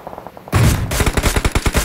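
Gunfire in the mobile battle game PUBG Mobile during an esports match: a loud close burst of rapid automatic shots following a quieter stretch of background game noise.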